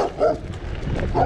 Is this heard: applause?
no